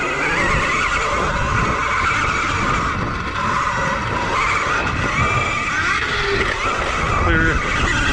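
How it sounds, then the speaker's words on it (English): A 2020 KTM Freeride E-XC electric dirt bike brakes hard on spring dirt and grass, giving a loud, continuous rough scraping skid with broadband gritty noise and wind rush throughout, close to the rider. "Oh, on the brakes."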